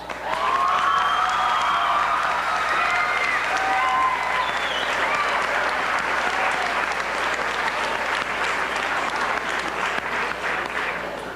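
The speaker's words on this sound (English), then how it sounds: "give yourself a round of applause" A high school audience at the Elmont Memorial class of '95 Follies show gives a long, loud round of applause, with whoops and cheers rising over the dense clapping early on before it settles into steady applause.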